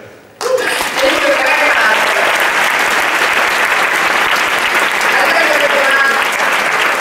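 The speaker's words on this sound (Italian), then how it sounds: "big round of applause to the screener at the festival and everyone else here" Sustained applause fills a film festival screening as the audience claps steadily after a brief quiet start, loud and dense throughout with no pauses.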